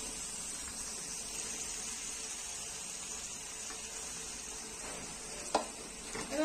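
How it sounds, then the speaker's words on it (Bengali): Chicken masala for biryani fries in a pan with a splash of water, giving a soft, even hiss that continues throughout at moderate distance, with a brief clatter of a utensil near the end. "এবার জলটা দিয়ে আমি ওটাকে ভালো করে কষিয়ে নিচ্ছি।"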